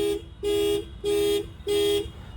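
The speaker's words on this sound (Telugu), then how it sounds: "హారన్ 3 సార్లు కొట్టినా." A car horn honks four times in a steady, evenly spaced rhythm. Each blast is a loud, clear tone lasting about a third of a second, and the sound is close by with no talking.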